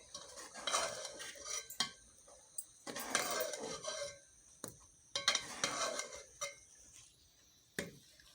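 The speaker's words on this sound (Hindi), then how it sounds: "और चम्मच को अच्छी तरह से हिलाएंगे।" A spoon stirs spinach with added coriander in a cooking pot, making repeated close scraping and clinking bursts in a loose rhythm, separated by brief pauses and sharp knocks against the metal, with no talking.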